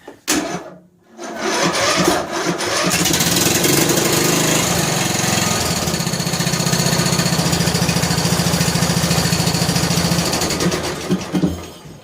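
A John Deere L100 lawn tractor with a so-so battery cranks briefly, pauses, then fires up. Its small engine settles into a loud, steady, chugging run that continues close by until it is cut near the end.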